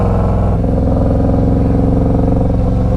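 A Harley-Davidson Street Glide Special FLHXS motorcycle engine runs close and loud with a deep, throaty, pulsing idle and slight rises in revs throughout.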